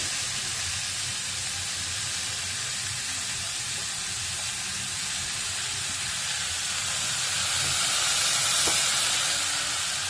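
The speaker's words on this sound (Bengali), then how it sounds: "এবার ক্যাপসিকামটা দিয়ে দিচ্ছি, লঙ্কা কুচি, টমেটো কুচি।" Capsicum, chopped chilli and chopped tomato frying in a pan, a steady broadband sizzle and hiss that holds evenly throughout and swells slightly near the end, with no talking.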